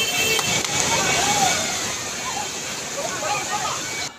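A flash flood surges down Courtallam waterfall in a continuous, loud, broad roar of rushing water, with faint distant voices rising above it now and then.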